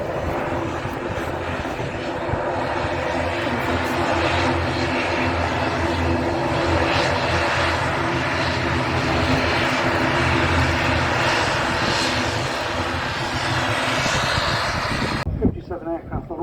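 An Aurigny Airlines airliner at Manchester Airport, its engines roaring loudly and steadily for a long stretch before cutting off abruptly, with people talking over it.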